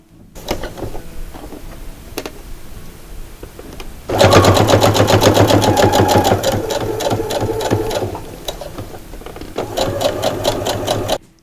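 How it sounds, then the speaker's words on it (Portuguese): A sewing machine runs a line of safety stitching along the edge of a dish towel border, holding fabric triangles in place. Near and loud, it whirs in steady bursts, with a short pause partway through, and no one talks. "Agora eu vou à máquina passar uma costurinha de segurança, bem na beiradinha para segurar os triângulos no barrado."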